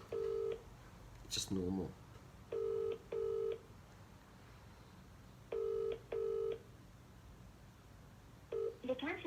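Touch-tone telephone keypad beeps as a number is dialed on a phone call, in four short bursts of paired tones separated by pauses, with brief speech in between.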